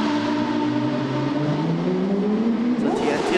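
A race car leaves the pits at Sepang International Circuit in Malaysia, its engine note climbing as it accelerates away, heard close under a commentator's voice.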